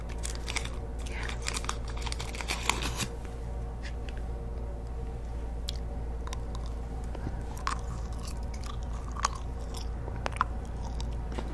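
Close, quiet chewing of white gum with moist smacking and occasional crunchy clicks, steady through the stretch, with some soft talking in the background.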